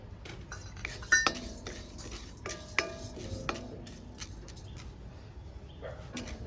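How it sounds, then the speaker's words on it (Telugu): Watermelon seeds roasting in a heated tava, stirred around so they give scattered light clinks, rattles and scrapes against the metal. The sound is quiet and close, with no one talking. "పుచ్చగింజలు వేసుకొని వేయించుకుంటున్నానండి."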